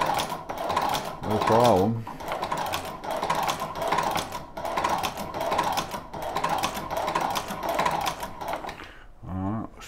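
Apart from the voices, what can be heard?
Chinese leather shoe patching machine stitching two layers of leather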